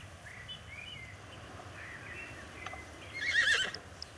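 Horse whinny in a French horse-care video game, a soft neigh rising near the end over a quiet ambient bed, with light hoof clip-clop nearby; no talking.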